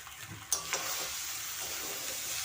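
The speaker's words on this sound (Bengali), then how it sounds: "এখন ভালোভাবে মিশিয়ে নেব, মিশিয়ে ঢাকনা দিয়ে রাখবো, চুলার আঁচটা কমিয়ে।" Greens fry in a pan while being stirred and mixed, with a sharp scrape and clack near the start, then a continuous quiet sizzle close by and no voices.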